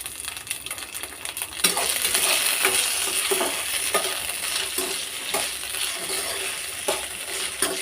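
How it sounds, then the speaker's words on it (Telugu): Green chillies and cumin seeds frying in a pan for village-style cucumber tomato chutney, a steady close hiss that swells suddenly as ingredients go in, with repeated scraping stirs and clinks of the spatula. "ఇలా పచ్చిమిర్చిని ఇలా ఫ్రై చేసుకోవాలి."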